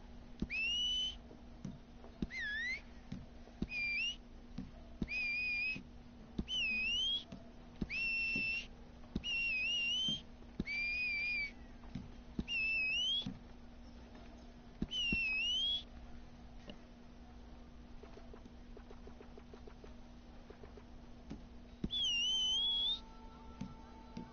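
Repeated short whistled notes from a character in Red Dead Redemption 2 online, each rising or bending tone clear and fairly loud, over a quiet game backdrop with a steady low hum.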